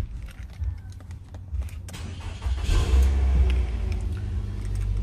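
A 2014 Nissan car engine cranks and catches, rising into a steady idle rumble after a few clicks, heard up close with no talking.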